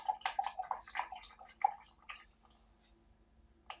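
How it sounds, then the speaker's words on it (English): Grated potato for rösti is squeezed by hand, and its water and starch drip and squish out in short, close, faint bursts that thin toward the end. "you'd be amazed how much water, starch, actually comes out"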